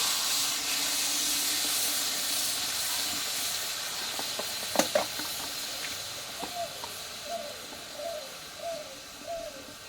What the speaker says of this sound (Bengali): এবার এই কড়াইয়ে দিয়ে দেবো কিছুটা জল